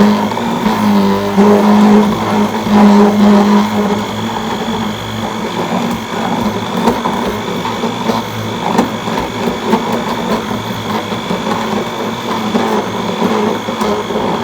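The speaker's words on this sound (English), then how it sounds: "Every time you hear that, rah, rah, rah, that's the ice." A handheld blender motor grinds ice for a smoothie with a loud, steady whine and rough churning, sustained throughout with no talking.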